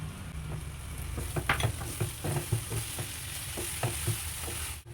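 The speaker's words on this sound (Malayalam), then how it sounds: "ശർക്കര നല്ല രീതിയിൽ മെൽറ്റ് ആയതിന് ശേഷം ക്രഷ് ചെയ്ത് വെച്ചിരിക്കുന്ന തേങ്ങ ആഡ് ചെയ്ത് കൊടുക്കാം" Crushed coconut is stirred into melted jaggery in a pan for a banana dessert, giving soft scraping strokes and gentle sizzling in an irregular rhythm, close and moderately quiet.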